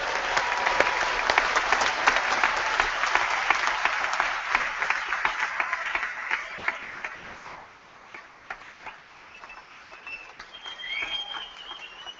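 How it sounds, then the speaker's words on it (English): A convocation audience applauds graduates of a hospitality, food and tourism school, a dense, sustained round of clapping that fills the hall and then thins out and quiets toward the end. "Please join me with a warm round of applause for these graduates."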